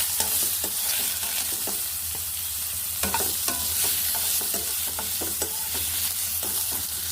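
Boiled raw banana pieces fry in a pan for a simple banana fry, giving a continuous close sizzle with repeated scraping stirs at an irregular pace, no voices.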